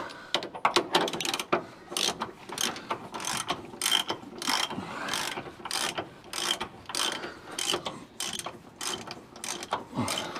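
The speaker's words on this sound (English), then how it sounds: "Now we wind this big nut all the way up." A ratchet winds a big nut onto the idler arm of a Holden HK, giving rapid bursts of close, loud clicking in a steady repeated rhythm with short pauses between strokes and no talking.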